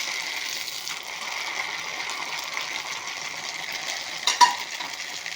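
Achappam fries in hot oil with an even, hissing bubble throughout; near the end a brief metallic clink sounds as a piece is turned over.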